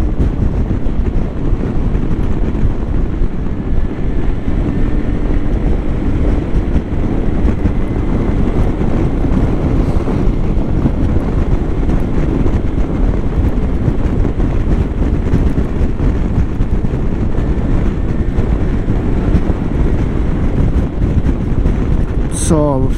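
Steady, loud wind rush and road roar while riding a Yamaha Tricity 300 three-wheel scooter through rural countryside, a continuous buffeting that covers the whole stretch.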